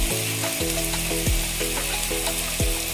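Turmeric and ground coriander hit hot oil in a pan for an egg tarka, producing a loud, steady sizzle broken by several sharp stirring scrapes, close up and without talking.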